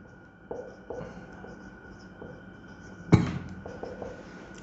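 Chalk or marker writing on a board during a physics lecture gives a series of soft, close, scratchy strokes, with one sharper knock midway and no talk over it.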